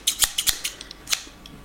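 Quick snips of scissors cutting double-sided tape, several sharp crisp cuts in a short uneven burst, close and fairly clear.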